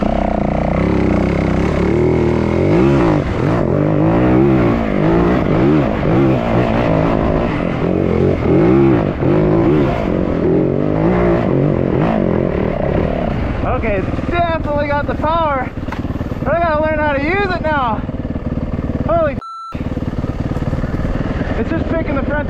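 Uncorked Yamaha WR450F dirt bike engine revs hard and climbs through the gears, loud and close with rising and falling pitch sweeps, a rider talking over it and a brief cut near the end.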